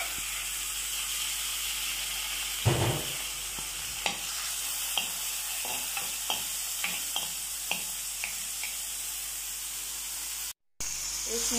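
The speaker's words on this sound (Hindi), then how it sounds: "अभी विंग्स हो रही हैं फ्राई" Chicken wings frying in a pan with tomatoes, a steady loud sizzle and hiss throughout, broken by the clatter of stirring and scraping and a brief dropout near the end.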